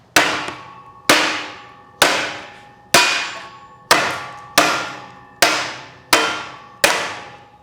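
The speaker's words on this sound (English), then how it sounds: "Vinyl actually did better under the hammer simulation" Nine sharp hammer blows strike a Windsor vinyl window frame at a steady pace, each a loud, ringing crack that decays before the next.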